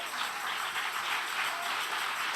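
Steady, dense applause from a congregation at a live Spanish-language preaching service, an even wash of many hands clapping at moderate volume throughout.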